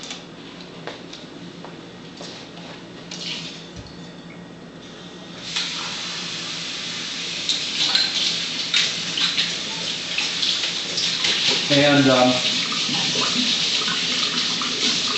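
Tap water running steadily while a measuring cup is rinsed, a close, continuous splashing stream that grows louder partway through, with a brief word spoken near the start.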